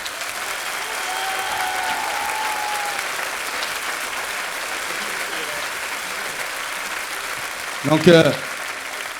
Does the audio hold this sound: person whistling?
no